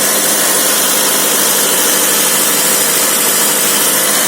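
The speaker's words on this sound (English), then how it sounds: "Cold start, no problem at all. It is a 2 litre, 16 valve, 173 horsepower, 6-speed gearbox" A Ford Focus ST 170 with a 2-litre 16-valve engine idles steadily after a cold winter start, a loud, even, continuous hum recorded close with no talk.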